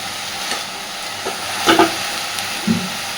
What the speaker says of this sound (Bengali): তো এবার একটু সময় নিয়ে সুন্দর করে শাপলাটা ভেজে নেব